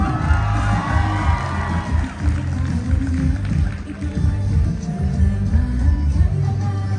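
A live event crowd cheering and clapping at a company gathering, a dense continuous roar of voices and applause with shouts and whoops throughout, loud and close.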